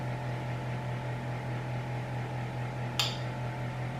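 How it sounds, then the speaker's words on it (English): Food processor spinning flour and sugar for lemon bars: a steady low motor hum with a faint regular pulse, moderately quiet, broken once by a short sharp click. "I'm just gonna give the flour and sugar a spin"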